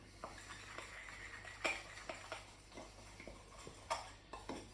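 Spoon stirring cheese scone dough with milk in a bowl, giving soft scattered clinks and scrapes against the bowl at an irregular pace, quiet and close with no talking.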